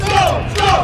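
A crowd at a beer and music festival in Atlantic City whoops and cheers, two loud, close rising shouts in quick succession over general crowd noise.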